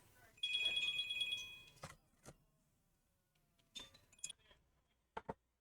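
A phone rings with a short melodic ringtone during the teardown of an Asus R543M laptop, followed by scattered clicks and handling knocks in an otherwise quiet room.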